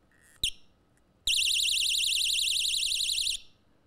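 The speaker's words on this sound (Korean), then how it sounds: "불빛과 함께 경보음이 크게 납니다." A small handheld personal safety alarm bought online, pulled to activate, blares a loud, continuous warbling electronic siren for about two seconds after a brief click, then cuts off.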